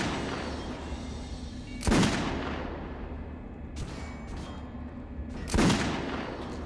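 Gunfire in Metro: Last Light Redux: two sharp, loud shots roughly four seconds apart, each with a short decaying tail, over a steady low rumbling background.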